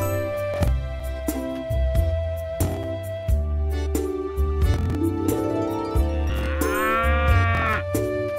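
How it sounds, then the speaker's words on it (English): A cartoon cow gives a drawn-out, wavering moo over a bouncy children's music track with steady beats and plucked notes. "Now we need to pasture our Molly. Water the lawn, and the plants for our cow will grow on it"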